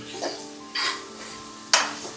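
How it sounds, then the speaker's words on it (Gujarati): Turmeric dropped into hot ghee for tempering, giving three short bursts of sizzle and spoon clatter against a quiet pan, with no talk. "હળદરને હવે ઘી દેખાય છે ત્યાં નાખી દઈશું તો ઘી સાથે ગરમ ઘી સાથે હળદર ટચ થશે"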